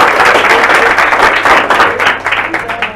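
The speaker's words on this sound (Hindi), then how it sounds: "पहले जोरदार ताली।" A classroom of students claps loudly and steadily in dense applause for two people standing beside the teacher, sustained and close throughout, with faint voices mixed in.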